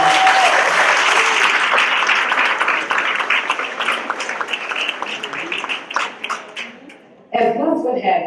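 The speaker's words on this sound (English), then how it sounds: "So give him a round of applause." A round of applause at a chamber of commerce luncheon meeting, many hands clapping loudly at first and thinning toward the end before a voice speaks over the room.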